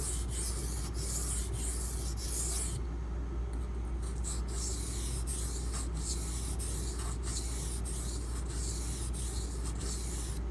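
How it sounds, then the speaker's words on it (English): A knife worked back and forth on a very hard, dense, coarse Beston 500 grit sharpening stone, giving a steady gritty scraping that runs continuously at close range with no talk. "Now this is a very coarse stone"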